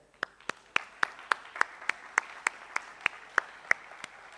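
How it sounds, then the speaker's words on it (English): A conference audience welcoming a speaker on stage comes through as a sparse run of about fourteen evenly spaced, crisp single claps, near and regular, with quiet room tone between them. "we receive with a big applause now to Floris van den Dool of Accenture"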